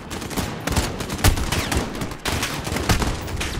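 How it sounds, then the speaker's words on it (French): Call of Duty Modern Warfare firefight near an embassy: loud, sustained automatic gunfire with sharp repeated shots and bursts, dense and close, continuing steadily throughout with no talk over it. "Attaquez, ouvrez le feu!"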